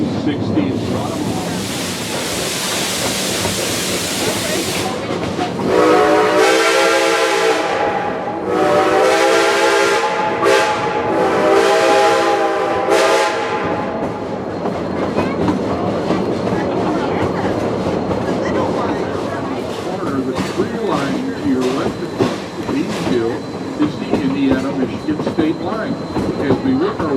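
An Ada Banana steam locomotive running at Hesston Steam Museum during the Steam & Power Show, with loud rhythmic chuffing bursts and a rumbling rolling roar and rail clatter. A voice talks over parts of it.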